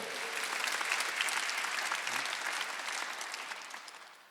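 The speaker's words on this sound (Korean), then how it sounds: "박수 한번 드렸어요." A church congregation at a Sunday worship service breaks into dense, sustained applause, a loud, even wash of many hands clapping that tapers off gradually at the end.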